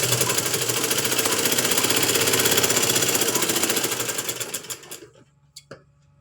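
A sewing machine runs steadily, stitching cloth with a quarter-inch seam allowance for a hooks-and-buttonhole finish. Its rapid, loud mechanical chatter runs for about five seconds, then slows and stops with a few final clicks.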